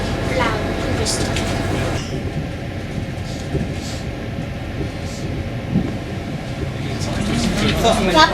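A train rumbles steadily along the tracks, a continuous low roar with faint rattling, as people talk quietly over it.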